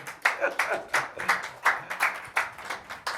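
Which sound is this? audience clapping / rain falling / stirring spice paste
audience clapping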